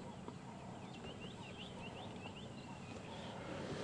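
Vultures squabbling in a tree near the carcass of a buffalo on an African safari drive, a run of harsh, scratchy calls and squeals at moderate distance over steady outdoor noise.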